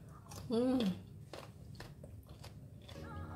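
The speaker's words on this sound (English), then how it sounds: "I just break half and then dip it inside and eat it." Someone bites into crunchy, sour green mango and chews it, with crisp crunches and chewing sounds under a brief burst of voice.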